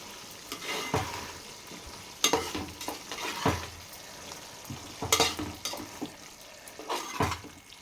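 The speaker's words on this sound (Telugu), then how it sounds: "పైనుంచి కొత్తిమీర కూడా కొంచెం జల్లి ఒకసారి ఇలాగ కలిపి" A pan of drumstick curry with onions and a sprinkle of coriander is stirred over low heat, spoon scraping in irregular bursts over a soft, steady sizzle, close and fairly quiet.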